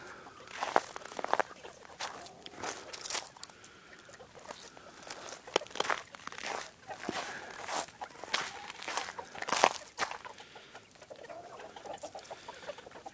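Small roosters and chickens at feeding time, with scattered clucks and squawks over rustling and scratching, moderately close, no talk.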